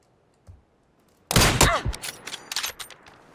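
Gunfire in PUBG, a sudden loud close burst of shots with sharp cracks and ringing echoes, followed by scattered softer shots and clicks after a near-silent start.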